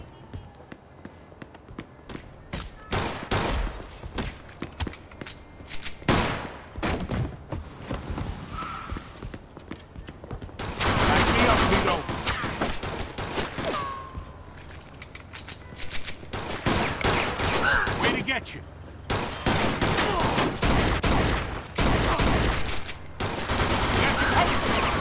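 Machine gun fire in the video game Mafia 2 comes in scattered bursts at first, then long, dense, loud fusillades with brief pauses, mixed with running steps and occasional shouted voices.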